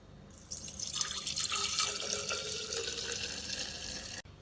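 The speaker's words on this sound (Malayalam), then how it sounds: "ഞാനിപ്പോ വൈനിട്ട കുപ്പിയിലേക്ക് തന്നെ ഒഴിക്കുന്നത്." Homemade pineapple wine being poured back into its bottle, a continuous trickling gurgle of liquid that starts abruptly, runs unevenly for a few seconds, then cuts off.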